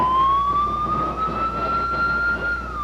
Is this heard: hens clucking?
no